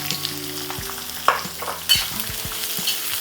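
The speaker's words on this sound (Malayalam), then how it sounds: "ഇത് നന്നായി ഒന്ന് മൂത്ത് പച്ചമണം ഒന്ന് പോട്ടെ, അതുവരെ ഇളക്കി കൊടുക്കുക." Sliced large onions frying in a pan while being stirred, with a soft sizzle under repeated scraping and knocking strokes of a spoon, close and unaccompanied by voices.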